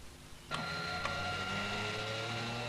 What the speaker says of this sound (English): This fan is sucking air from a house.